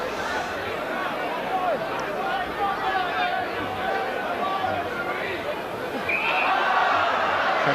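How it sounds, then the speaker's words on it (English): A rugby league stadium crowd at a Featherstone versus Leeds match keeps up a steady, loud roar of voices, jeering and shouting at the referee, with a brief louder swell near the end. "The referee's coming in for a bit of stick at the moment from the crowd here."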